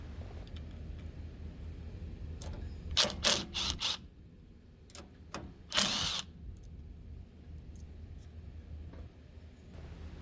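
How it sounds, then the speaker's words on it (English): Two small acorn nuts being loosened with a 10mm socket and ratchet on the carburetor cover of an MTD snow thrower, heard as short bursts of clicking ratchet and metal mechanism sounds against a low background hum, with quiet gaps between. "using a 10mm socket, remove the two acorn nuts holding the cover on"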